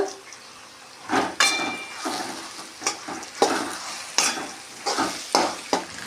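Fried okra being stirred into a tomato and tamarind gravy, with repeated sharp scrapes and clatters of a spoon against the pot over a low bubbling sizzle.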